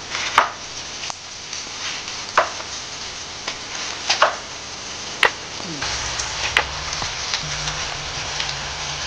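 A knife chopping chayote on a cutting board for pansit miki guisado, a sparse series of sharp individual cuts at irregular intervals over a steady background hiss, with a low hum entering partway through.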